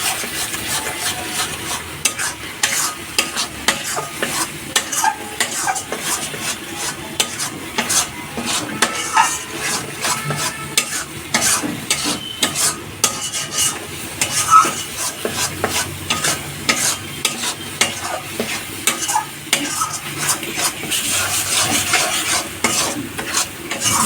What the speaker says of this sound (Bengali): এটা নেড়ে যাবেন, তলা থেকে যেন না ঝরে যায়